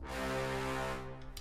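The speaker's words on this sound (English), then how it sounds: "you can see we've added in these low brass impacts, which sound like this." Low brass impact from an orchestral film score: a single heavy, sustained low blast that swells briefly and then fades after about a second, heard alone.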